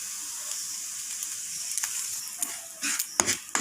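Semolina frying in ghee gives a steady, soft sizzling hiss, with scraping stir strokes coming closer together and louder toward the end.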